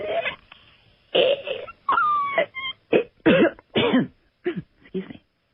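A voice makes a few rough, growling bursts imitating a zombie, then coughs sharply at the end.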